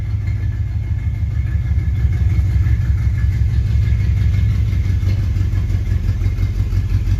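A car engine idles steadily with its newly installed exhaust system, on a vehicle being readied for its first drive in 40 years; a loud, continuous low rumble with a throaty pulse throughout, no voices.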